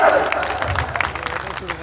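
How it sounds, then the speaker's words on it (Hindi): Audience clapping at a Hindi gathering celebrating Hindu-Muslim unity, a dense wash of applause lasting under two seconds with crowd noise mixed in, steady and fairly close. "जोरदार ताली बजाओ।"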